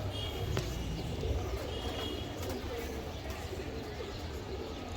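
A black female racing pigeon cooing softly, low rounded coos mixed with faint chirps from other birds, with someone talking over it.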